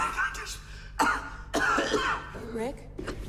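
Rick, a feverish, nauseous man in the film The Titan, coughs and clears his throat in a few rough bursts with breathy pauses, close and loud under a low musical bed.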